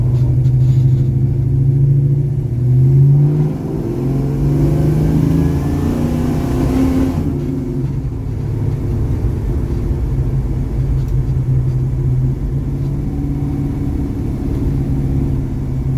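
A carbureted car engine runs steadily after a carburetor jetting change, with a loud low rumble that rises in a rev early on and then settles into a sustained idle, heard close with no talking.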